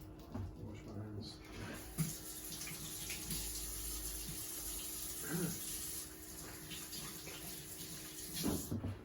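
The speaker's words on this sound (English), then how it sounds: "Wash my hands." Hands being washed under a running tap, a steady splashing stream of water with intermittent rubbing and splatter, fairly faint, with a person talking over it.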